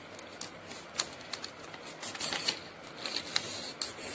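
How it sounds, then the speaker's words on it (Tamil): A small green A4 paper sheet is handled and folded in half, giving quiet crisp rustles and light crinkling taps scattered unevenly across a few seconds. "இதை என்ன பண்ண போகிறேன்னா பாதியாக இப்படி மடித்து விட்டு"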